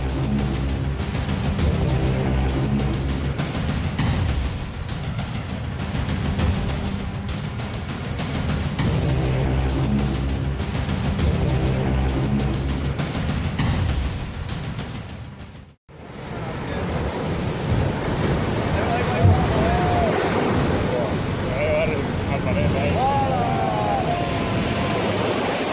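Huge autumn waves crash and roar along the shore at San Sebastian, a continuous loud surf rumble mixed with wind buffeting, the scene cutting partway to another stretch of surging water.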